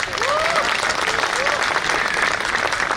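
An audience at a poetry gathering applauds, a continuous wash of clapping under crowd noise, with faint voices threaded through.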